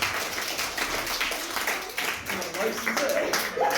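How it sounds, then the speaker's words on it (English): Audience applause and clapping at a live comedy show, a steady crowd round of clapping that carries through with speech mixed in over it. "Give yourselves a little round of applause for helping me out there"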